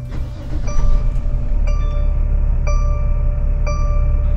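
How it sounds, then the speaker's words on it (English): Mercedes Sprinter V6 diesel van engine idling after an EGR valve cleaning, a steady low rumble heard up close with faint repeating high chimes ringing about once a second over it. "Now it's time to start the engine and test it."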